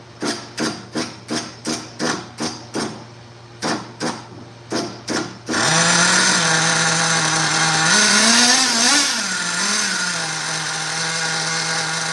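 A small nitro RC car engine first gives a series of sharp, evenly spaced pops and bursts, then fires up into a loud, continuous close-up whine that rises and falls slightly as it is revved, with no voices.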